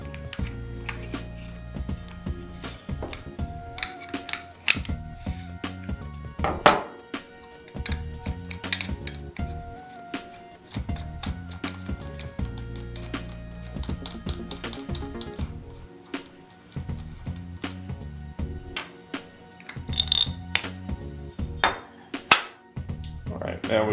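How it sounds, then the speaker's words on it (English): Metal parts being removed from a hydraulic accumulator: a nut and warning plate, with scattered metallic clinks, taps and scrapes of tools on steel, close and moderately loud. "Now we'll remove the nut and the warning plate."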